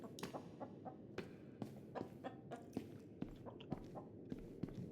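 Chickens in the video game Minecraft cluck in short, scattered bursts, faint and fairly close, with irregular clicks mixed among the calls.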